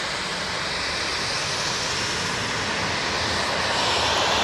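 A TUI Boeing 737 at Manchester Airport, its engines producing a loud, continuous broadband roar that holds steady and builds slightly toward the end, with no talk.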